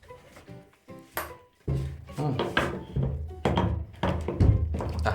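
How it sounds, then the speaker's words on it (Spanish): A bathroom door in Cuba is pushed shut, giving a series of close, heavy wooden thunks and knocks spread over several seconds as it is worked closed, the later hits louder and boomier. "Así se cierra la puerta del baño."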